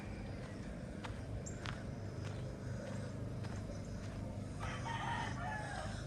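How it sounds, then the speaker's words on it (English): Roosters and hens heard at a distance over steady outdoor village ambience in Cabo Pulmo, Mexico, with occasional crows and soft clucks scattered throughout. "Mornings, the chickens are out."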